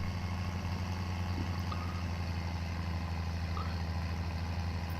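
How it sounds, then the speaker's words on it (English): A car engine idling with a rotary note, a faint, steady low hum running evenly throughout with no voices. "I like the sound of this engine"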